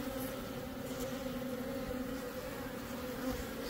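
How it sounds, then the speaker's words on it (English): Honeybees buzz steadily around a small hive, a close, continuous droning hum with a clear pitched tone that stays even and fairly quiet, with no voices. "So most of the bees are down there."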